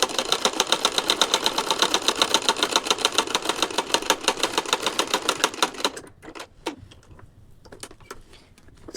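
A sewing machine stitches fabric in a fast, even mechanical clatter for about six seconds, then stops, leaving a few faint clicks and handling noises.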